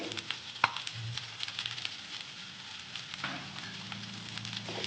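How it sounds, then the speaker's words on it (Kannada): Finely chopped onions fry in a pan for pepper chicken, giving a soft, steady crackle with scattered small pops and stirring scrapes. "ಎರಡು ಈರುಳ್ಳಿ ಚಿಕ್ಕದಾಗಿ ಕಟ್ ಮಾಡಿ ಇಟ್ಕೊಂಡಿದ್ದೀನಿ ಅದನ್ನು ಕೂಡ ಹಾಕ್ಕೊಂಡು ಚೆನ್ನಾಗಿ ಫ್ರೈ ಮಾಡ್ಕೊಳ್ಳಿ"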